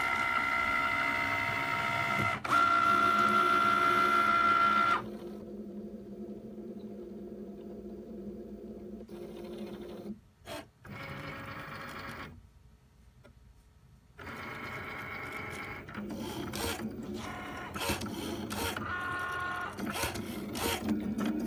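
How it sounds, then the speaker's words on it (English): A Cricut Maker drives its rotary blade through flannel fabric, a steady mechanical whir with brief high whines, broken by short pauses and changes in motor pitch as the carriage moves. "we're using the rotary blade on this with the Cricut Maker"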